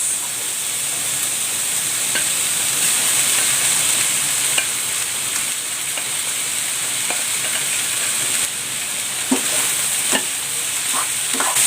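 Cooked rice being stir-fried with Chinese sausage in a hot pan, giving a loud, steady sizzle and hiss with occasional scraping stirs and soft clicks of a utensil throughout.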